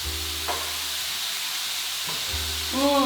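Vegan chorizo fries in a pan with a steady, close sizzle, broken now and then by stirring scrapes, and no one talking.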